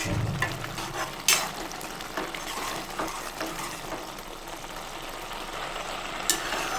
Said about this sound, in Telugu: కలుపుతూ ఉండండి, అడుగంటుకుంటుంది మరి